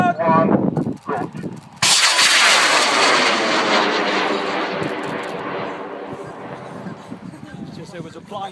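A model rocket launches at a rocket club event in Cambridge: a voice counts down, then a sudden loud roaring whoosh of the motor bursts out and slowly fades as the rocket climbs away.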